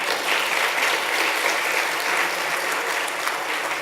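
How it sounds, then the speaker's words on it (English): A church congregation at a Sunday service breaks into dense, continuous applause, a full room of hands clapping steadily at close range with no speech over it. "Maybe we should clap for her."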